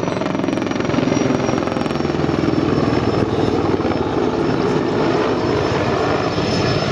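A military helicopter fitted with weapon pylons on its stub wings thunders nearby, its rotor chop pulsing steadily and loud under a constant turbine roar throughout.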